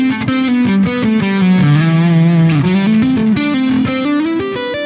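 A distorted electric guitar with chorus-like effects plays a minor-sounding Dorian mode line, sustained notes sliding and shifting pitch, loud and alone.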